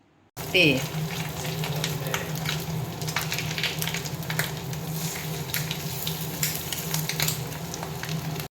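Steady crackling sizzle of fish roe fritters frying in hot oil, close and continuous, with sharper pops scattered throughout.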